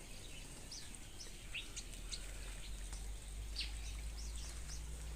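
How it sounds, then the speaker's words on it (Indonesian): A cucak hijau, or green leafbird, in a mini aviary giving short, high chirps at irregular intervals, faint and somewhat distant over a steady low hiss of background noise. "Burung cucak hijau"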